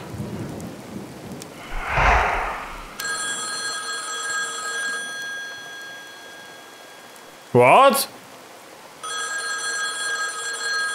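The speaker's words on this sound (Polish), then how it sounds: "Co to jest? No to telefon" A telephone rings in the Boogeyman horror video game in two bursts of bright, repeated electronic trills over a background of rain and rolling thunder. A person briefly speaks between the rings.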